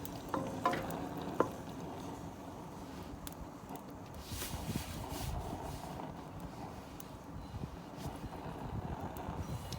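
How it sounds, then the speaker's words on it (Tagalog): Steady sizzling of meat sautéing in its own fat in a hot pan outdoors, with gusty wind buffeting the microphone and a couple of sharp clinks near the start. "papalabasin natin yung kanyang mantika. Tsaka tayo magigisa."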